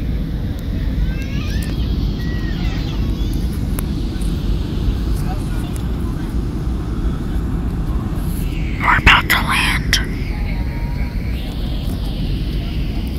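An airliner lands on a runway, heard from inside the cabin as a loud, steady low roar throughout. A brief louder rumble comes near touchdown, and people talk quietly over the noise.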